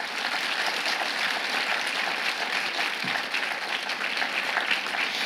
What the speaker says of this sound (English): A big round of applause for all our choir performers tonight.